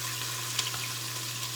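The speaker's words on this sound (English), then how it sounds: "Ooh, I love that sizzle." Steady broadband hiss of chicken sizzling and browning in a hot pan, with a few faint pops and crackles, continuous and moderately close.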